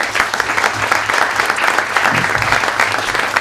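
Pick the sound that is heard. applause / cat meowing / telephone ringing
applause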